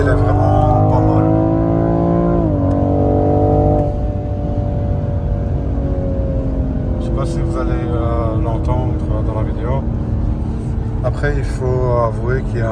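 A 2021 BMW M440i xDrive's engine accelerates steadily, its tone climbing through the revs with a shift partway, heard from inside the car while someone talks over it.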